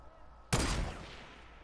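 A single sharp gunshot in a video game cracks out loud and close from near-silence, then decays into a lingering rumbling tail.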